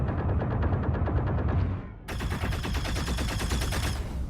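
Laser cannons on the L22 Wolf ship in a space video game fire in rapid, steady bursts, first muffled as heard from inside the cockpit, then abruptly brighter and sharper from outside, a continuous loud rattling barrage.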